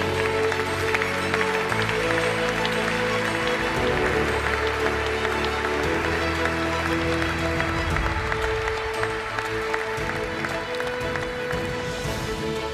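Applause from an audience at a national canoeing gala as award winners are honoured, a steady wash of clapping running throughout over a low hum of music or hall noise.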